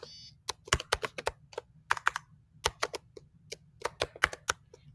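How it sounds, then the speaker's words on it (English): Typing on a computer keyboard to enter a web search, a quick irregular run of crisp close key clicks in short bursts, with no talking. "we type in what we want to search for"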